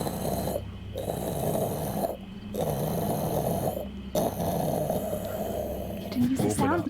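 A voice imitates the deep, grinding rumble of massive temple doors opening: three sustained, gravelly groaning bursts separated by brief pauses, close and loud, ending with a rising rasp.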